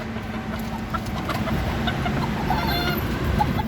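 Caged bantam chickens cluck softly and intermittently close by, with scattered bird calls over a low steady background hum.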